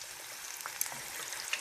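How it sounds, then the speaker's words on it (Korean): Shrimp heads frying in hot oil give a faint, soft sizzle with scattered little pops and crackles, quiet and steady over a short moment without talk. "그 다음에 머리 쪽도 튀겨볼 텐데"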